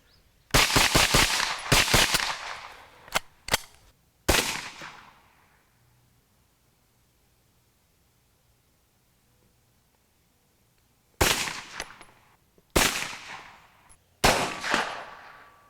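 A Chiappa M1-9 9mm carbine fires loud, sharp shots in quick bursts: a rapid string of several rounds, then a few single shots, a long quiet gap, and three more spaced shots, each trailing a short echo.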